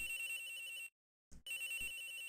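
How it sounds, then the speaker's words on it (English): A phone rings in the courtroom game Ace Attorney Investigations 2 with a bright electronic ringtone, a sustained ring that cuts off into a brief silence, then a short blip and the ring resumes, clear and unaccompanied. "excuse me. Phone call."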